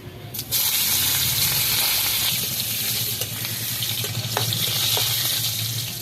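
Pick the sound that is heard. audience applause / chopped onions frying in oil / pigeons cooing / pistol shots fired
chopped onions frying in oil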